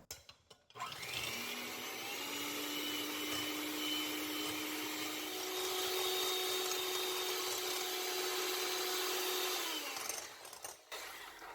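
An electric hand mixer whips eggs toward pale yellow before soft peaks, a steady loud motor whir running about ten seconds with a slight pitch shift midway, no voices.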